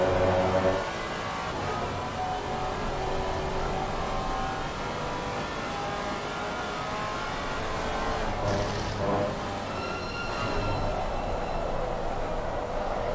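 A Maserati GT4 race car engine at Donington Park roaring steadily and loud, close by, a continuous throaty drone that shifts pitch slightly as it accelerates.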